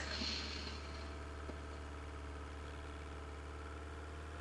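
Tractor engine idling in a zombie survival video game, a steady low mechanical hum with a constant droning tone that holds evenly for the whole stretch, with no talk.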